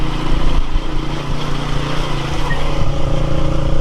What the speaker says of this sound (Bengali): সো আমরা এখন রওনা দেব বাইকে।